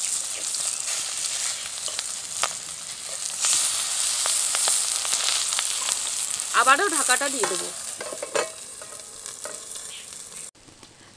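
Kakrol paturi, bitter gourd parcels wrapped in banana leaf, frying in a pan with a steady close sizzle and some stirring and scraping, and a short clatter near the end as the lid goes back on; a voice speaks briefly.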